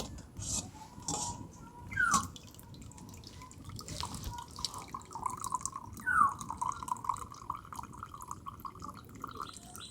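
Rinsed chhana for rasgulla hangs in cloth, and water drips from it in sparse, irregular drops with a couple of brighter plinks, quiet against a soft background hum.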